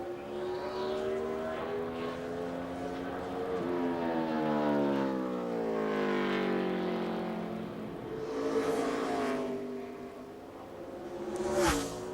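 A 2007 NASCAR Busch Series race car runs a qualifying lap at Richmond International Raceway, its loud engine howl droning continuously and sliding up and down in pitch as it passes and carries around the track, with no talk.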